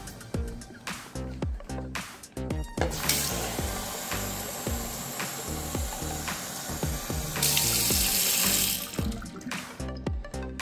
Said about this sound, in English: What's getting like filled up.